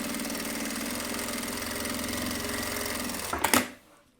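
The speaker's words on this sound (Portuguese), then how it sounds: "Agora eu vou bater aquela costura mais próxima" A sewing machine runs steadily while stitching a seam on fabric lining, its fast even mechanical whir close and sustained, then a few sharper clacks as it slows and stops.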